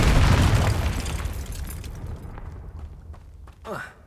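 Confringo fire spell blast in a Harry Potter video game: a heavy, booming explosion opening loud and rumbling before fading, with a short whooshing effect near the end; someone speaks over it.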